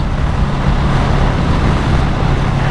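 A Honda Rebel 500 cruiser motorcycle riding at 80 to 90 km/h, a loud, steady roar of engine and wind rushing past, close and continuous with no talking.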